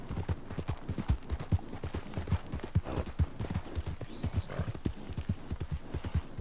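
Horse hooves clip-clop in a steady walking rhythm with an occasional whinny inside the Red Dead Redemption 2 game world, fairly close and clear, with no talk over it.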